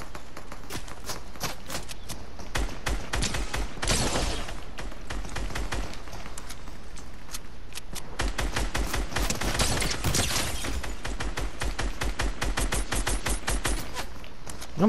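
Fortnite gunfire fills the stretch from start to end, rapid steady shots crackling close and loud with dense bursts throughout and no talk over it.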